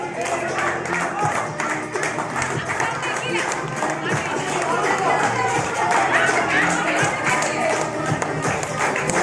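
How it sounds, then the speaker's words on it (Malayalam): A school crowd gathered for a teachers' balloon-blowing game gives sustained applause, busy clapping mixed with cheering and chatter that continues loudly throughout. "കയ്യടി കൊടുക്കൂ, കയ്യടി"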